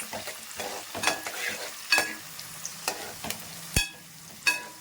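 Sliced onions frying in a pan and being stirred for a meat-leg curry, a steady sizzle broken by sharp scraping strokes of a spoon about every second, close and fairly loud, with no voices.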